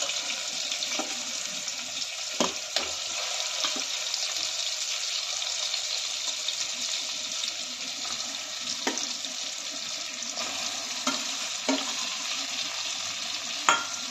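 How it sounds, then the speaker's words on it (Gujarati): Brinjal and potatoes tipped into a tomato mixture in a pan for a Kathiyawadi stuffed brinjal-potato curry, giving a steady wet sizzle with scattered soft clinks and knocks from a spoon throughout, close up, with no talking. "ધીમે ધીમે રીંગણા અને બટેટા એમાં ઉમેરી દઈશું।"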